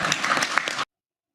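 Short burst of audience applause with distinct hand claps, dense and fairly close, cut off abruptly after under a second.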